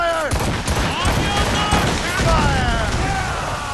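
Naval ship cannons in Assassin's Creed Rogue fire volley after volley, deep booming blasts layered over one another, while a voice shouts commands over the din.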